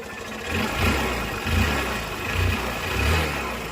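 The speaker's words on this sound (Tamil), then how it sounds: "இன்ஜினோட சவுண்டு பார்த்துக்கோங்க." A Hero Honda CBZ Xtreme motorcycle engine runs close by in a repair workshop, with a steady idle mixed with mechanical clatter and gentle rhythmic revs swelling roughly every second.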